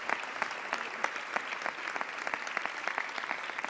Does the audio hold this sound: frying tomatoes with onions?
no